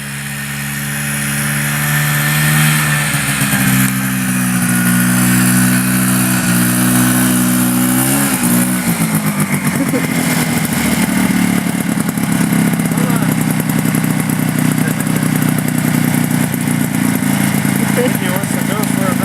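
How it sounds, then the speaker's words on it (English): A new Bravo snowmobile ridden through snow, its engine revving up with rising pitch, then running at a steady buzzing drone close by. "Nacho's having fun on the snow machine."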